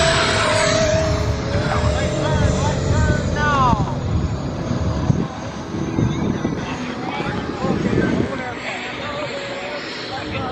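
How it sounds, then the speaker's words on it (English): RC F-18 Super Hornet model jets launch at Flite Fest outdoors, their electric ducted-fan whine rising and sweeping past amid buzzing engines and wind, with people talking in the background. "they're trying to launch the planes"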